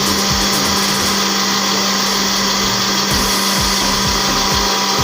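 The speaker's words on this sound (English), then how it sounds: "Then place it on the blender and mix for about 15 seconds." A kitchen blender whirs loudly and steadily while mixing homemade mayonnaise ingredients, a continuous motor drone with rhythmic thumping pulses from the contents churning, no voices over it.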